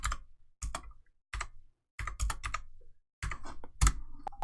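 Bursts of typing on a computer keyboard, close and quiet: clusters of quick key clicks separated by short pauses, with a few isolated taps between the runs.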